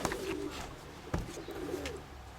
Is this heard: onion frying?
no